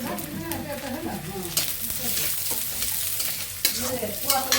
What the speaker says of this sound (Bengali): পেঁয়াজ আর কাঁচামরিচ দিয়ে ভেজে নিচ্ছি তেল দিয়ে